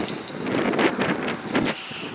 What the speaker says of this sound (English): It's windy. It's very windy